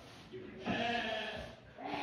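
Plump sheep bleat on shearing day, a soft wavering call rising midway, fairly faint and somewhat distant.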